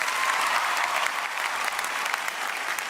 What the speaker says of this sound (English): And the crowd just goes wild.